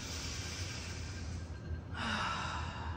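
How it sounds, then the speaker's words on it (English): Slow, deep human breathing during a yoga pose, close and quiet: a long soft exhale followed by a fuller, breathier inhale, with no talking. "I'll take a couple breaths here."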